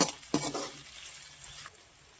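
Ginger-garlic paste with curry leaves being sautéed in a pan, a short soft sizzle that opens with a couple of sharp spoon scrapes and then fades out, near and quiet.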